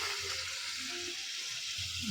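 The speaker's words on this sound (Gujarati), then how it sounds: "આ રીતે ડુંગળી નાખી અને ડુંગળીને બી ફ્રાય થવા દઈશું" Chopped onions frying in a pan, a constant close hiss and sizzle with light crackle, moderately loud and alone.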